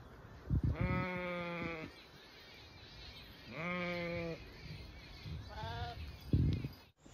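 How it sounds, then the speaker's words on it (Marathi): Sheep bleat three times, wavering calls spaced a few seconds apart, fairly close, against a quiet outdoor background. "भरपूर अशा मेंढ्या पण आहेत त्या."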